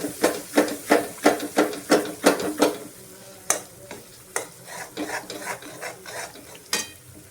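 Cooked onions sizzle in a pan while a spoon scrapes through them in a steady run of close, rhythmic stirring strokes, thinning into a few scattered scrapes, ahead of tomato paste for a Punjabi cashew curry.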